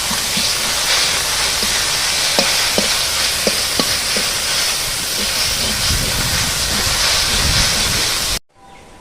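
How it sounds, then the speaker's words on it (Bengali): Greens fry with shrimp in a hot pan, a loud, steady hiss and sizzle of steam rising, with a few sharp spatula taps in the middle before the sound cuts off abruptly at the end. "এবার শাকটা ভালো ভাজা ভাজা হোক"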